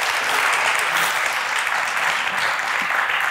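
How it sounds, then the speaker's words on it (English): Steady, dense audience applause at a science slam event, loud and continuous for a few seconds, with no talking over it. "round of applause for Mateusz."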